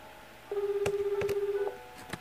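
Phone dialing in the video game Heartache 101: a steady electronic tone holds for about a second, marked by a few sharp key clicks, and two more clicks follow once it stops.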